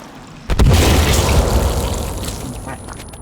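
A bomb goes off in the survival game Sons of the Forest as a sudden loud boom with a deep rumble that decays slowly over a few seconds, heard alone at close range.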